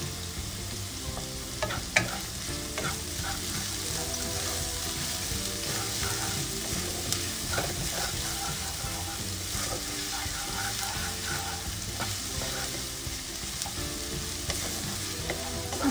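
Finely chopped garlic and ginger frying in a hot pan for kung pao chicken, a constant close sizzle broken by regular clinks and scrapes of a spatula stirring.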